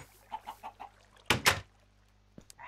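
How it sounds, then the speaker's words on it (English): Minecraft chicken clucking in a short burst of four quick, evenly spaced clucks, followed a moment later by a louder double thud and a faint click, with a low steady hum underneath. "I hate that chicken."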